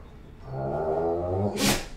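A single sneeze, a drawn-out breathy buildup ending in a sharp burst of hiss, close and fairly loud.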